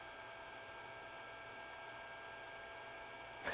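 Cooling fan inside a Skil jump charger, a faint, steady whirring hum with a soft hiss of airflow, constant and unchanging, heard alone with a small bump at the end.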